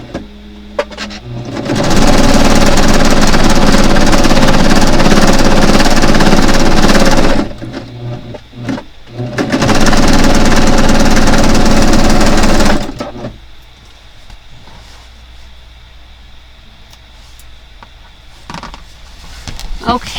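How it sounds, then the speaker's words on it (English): A serger sewing machine stitches through fabric in two long, loud, steady whirring runs separated by a short pause, followed by quieter handling noise and faint background sound. "And I am going to serge this section."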